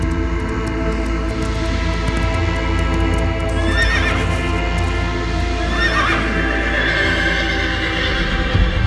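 A horse whinnies twice amid a movie soundscape, with shrill neighs rising above a steady rumbling bed that resembles a train or carriage, and hooves clip-clopping faintly underneath throughout.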